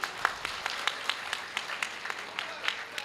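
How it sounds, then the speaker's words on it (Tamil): An audience in an auditorium claps in praise of Lord Murugan, a modest scattering of individual claps at a fairly steady pace, fairly near. "முருகப்பெருமானுக்கு கைத்தட்டல் இந்த அரங்கம் முழுவதும் அதிர்ந்திருக்கணுமே."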